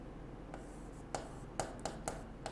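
Pen or chalk strokes mark a board or paper in a handful of short, crisp scratches spaced unevenly against a quiet hissing room background.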